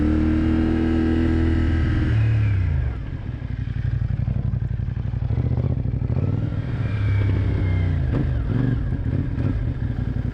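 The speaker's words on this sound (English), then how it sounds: "Let's try to pull out in third gear," A CFMoto 450NK motorcycle pulling away in third gear, its engine loud and close, dipping then climbing in a strained rising drone as it labours to gain speed, no voices.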